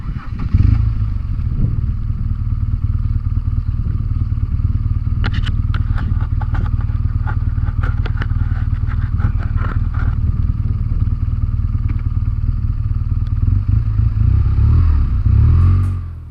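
A motorcycle riding over slippery rocks on a rough South African trail, with a loud, steady engine drone throughout and scattered clattering knocks and scrapes from the rocks in the middle stretch.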